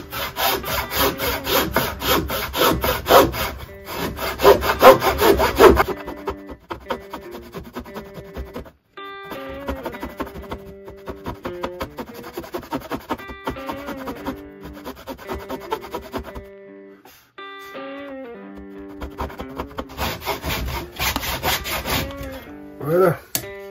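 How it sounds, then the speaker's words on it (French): A handsaw cuts through wood for an Egyptian-style chest, pressed firmly against a guide, making steady rhythmic rasping strokes close up that pause briefly and then resume. "Et je fais ma découpe. Donc en appuyant bien contre le guide."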